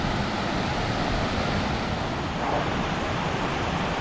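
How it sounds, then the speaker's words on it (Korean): Rushing water pours steadily from a swollen mountain stream in midsummer near Beopheungsa Temple, Gangwon, South Korea, a dense, constant hiss and roar close at hand, with no voices over it. "많아진 계곡물은 힘찬 소리를 내며 흘러가고 있었죠."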